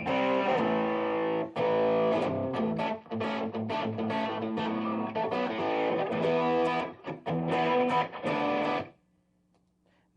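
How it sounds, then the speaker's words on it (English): Electric guitar played through an older used Expandora distortion pedal, loud chunky distorted chords and riffs ringing for about nine seconds, then cut off to near silence with a faint hum. "This one's an Expandora pedal, which is an older pedal that I bought used, and it's good for just good old chunky distortion"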